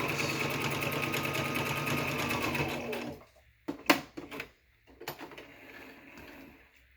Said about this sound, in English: Press it back down, and we're just gonna sew right on across.